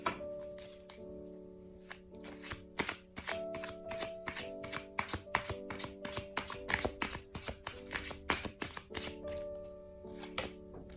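A deck of tarot cards is shuffled and dealt by hand, giving a long run of quick, crisp card snaps and riffles at close range over a steady background tone.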